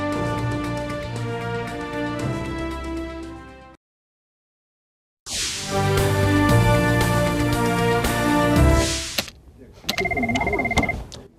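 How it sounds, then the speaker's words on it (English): A telephone rings in bursts, a sustained electronic ringing tone that stops, pauses in silence, then resumes loudly before a final shorter ring pattern. "Phone's ring."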